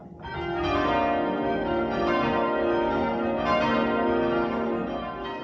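Church tower bells rung in change ringing, a sustained wash of overlapping metallic tones that rings on steadily and fairly loud, with no voices.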